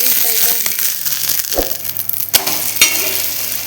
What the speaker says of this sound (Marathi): आता खालच्या साईडनेही असाच क्रिस्पी होईपर्यंत भाजून घ्यायचा आहे